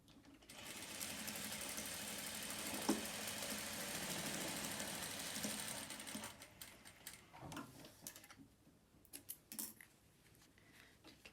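Sewing machine stitching the side seams of a fabric face mask at a half-inch seam allowance, a steady close whirring run for about six seconds, then short bursts of stitching and handling noise with no talk.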